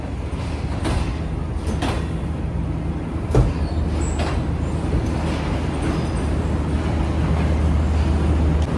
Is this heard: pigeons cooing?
no